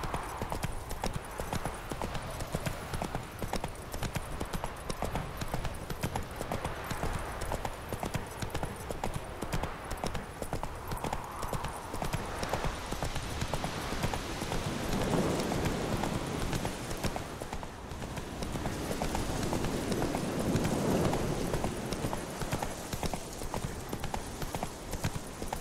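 A horse gallops in The Witcher 3 with steady, rapid hoofbeats throughout, close and loud, under a game soundscape with occasional brief voices.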